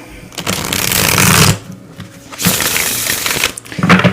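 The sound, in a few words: shuffling tarot cards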